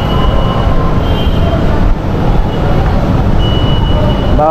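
A Manila LRT/MRT train running loud and close, with a continuous heavy rumble and steady rail noise that never lets up.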